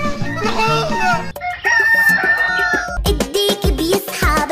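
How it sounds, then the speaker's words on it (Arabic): Loud rooster crowing set within a comedic Arabic children's song, with repeated crow-like calls over bright music and singing. "الديك بيصحى بكير بيوعينا بصياحه كوكو كوكو كوكو"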